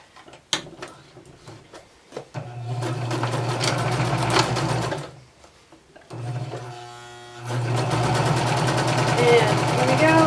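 Sewing machine stitching a tote bag seam, with two sustained close runs of the motor separated by a short pause and some light handling sounds at the start. A voice speaks faintly underneath.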